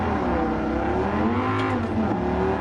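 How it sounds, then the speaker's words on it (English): A powerful SRT Viper sports car engine roars in a Gran Turismo 7 race, holding a loud, steady high-revving drone with rising and falling pitch as it accelerates, close and continuous throughout. "As you can just feel the power of this mighty SRT."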